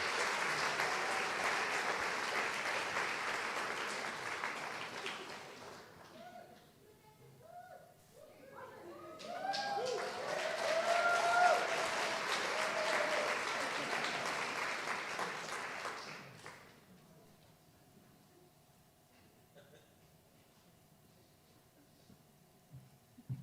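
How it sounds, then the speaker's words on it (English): A convocation crowd bursts into applause twice, steady clapping for several seconds each time with a lull and some talk between, then fading out as a voice speaks over a quieter hall. "Can we give them one more round of applause for these individuals?"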